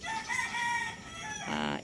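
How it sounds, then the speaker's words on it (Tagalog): Roosters crow in long, drawn-out calls, one after another, moderately distant, with no talking. "maririnig nyo pong nagsisipag tilaok po ang mga manok"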